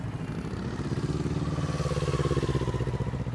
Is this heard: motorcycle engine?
yes